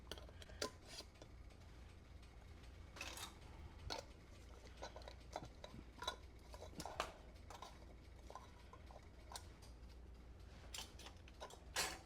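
Metal screw bands are turned fingertip-tight onto home-canning jar lids over sweet pickled beets, giving a faint, quiet run of small ticking, ratcheting metal clicks and scrapes, with brief louder clinks scattered throughout.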